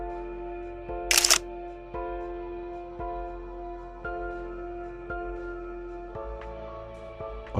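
A single camera shutter fires once with a quick mechanical snap during a slow exposure in low light, heard over gentle sustained music in a quiet space inside Beverley Minster.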